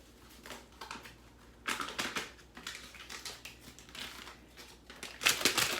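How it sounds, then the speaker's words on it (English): Beef stew seasoning mix tipped from a paper packet into a crock pot: close, crinkly rustling and soft patters in uneven bursts, louder near the end, with no talking. "1 package of this beef stew seasoning mix"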